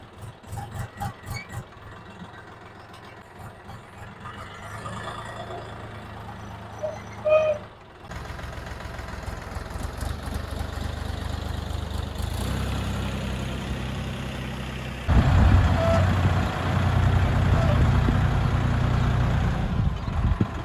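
A DTZ tractor engine strains to drag a log, tried in rear-wheel drive and then all-wheel drive, a low heavy diesel rumble that swells in two loud steps over the span.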